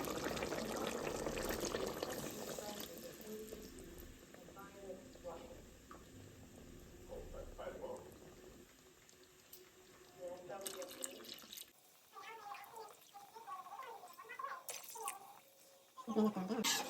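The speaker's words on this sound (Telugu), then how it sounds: "సో ఇప్పుడు ఏంటంటే కొంచెం వాటర్ వేసుకుంటున్నాము" Water splashes and trickles into a pot of rice for mutton pulao in short bursts, with dripping and sloshing between quieter moments, close by.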